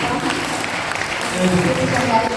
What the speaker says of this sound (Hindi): आइए ताली बजाइए।